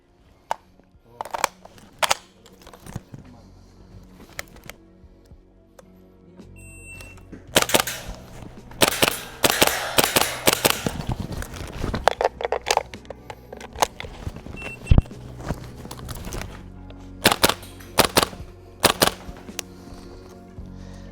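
Airsoft HK53 gas blowback rifle firing, sharp clacking shots alone and in quick bursts, loud and close, separated by quiet handling gaps.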